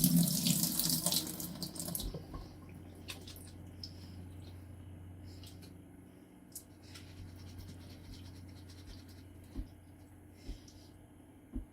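Water pours out through the small holes of a sprouting jar lid while rinsing sprouts, a loud close splashing stream for about two seconds that fades to faint trickles, drips and occasional light clicks and scrapes of the jar.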